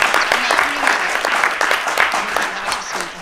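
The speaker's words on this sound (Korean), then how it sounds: "그분들께 한번 박수" Loud applause from the audience at a Hyundai Ioniq 9 product presentation, honouring the studio's car designers: dense, continuous clapping from a large crowd, close and full, with some voices mixed in.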